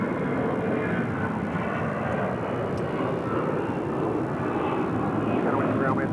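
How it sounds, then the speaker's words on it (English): An Air Canada Airbus A320-200 jet airliner bound for Vancouver rumbles steadily at Phoenix airport, a broad continuous roar of engine noise holding level throughout with no clear voices. "Air Canada flight 1055 headed to Vancouver on an A320-200."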